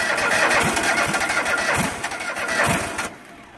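A Craftsman GT3000 lawn tractor engine is cranked and catches, coughing and sputtering unevenly at close range before cutting out abruptly near the end.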